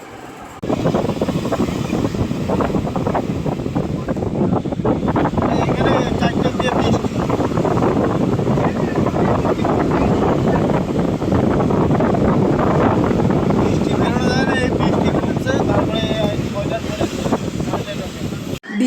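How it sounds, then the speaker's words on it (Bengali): Strong seaside wind at Digha beach buffets the microphone in a loud, continuous roar, with surf and a voice faintly mixed underneath throughout. "এত হাওয়া দিচ্ছিল যে কি বলবো ফোনটা ধরে দেখা যাচ্ছিল না"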